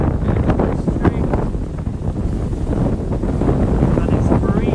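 Strong, steady wind roars and buffets the microphone throughout a freezing winter woodland walk, a loud, unbroken rumble that covers the whole stretch.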